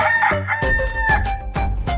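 A rooster, one of four chickens up for sale, crows loudly and close by in one long drawn-out call, with no talking.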